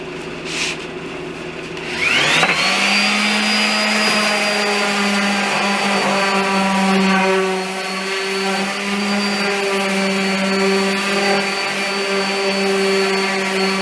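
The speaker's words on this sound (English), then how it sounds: "I'm going to give them a light sand and get those ready." A power sander starts up and smooths cut wooden pieces for a coffee table and sofa table in a workshop, giving a loud, steady whirring hum with a rising tone at startup that holds for the rest of the clip.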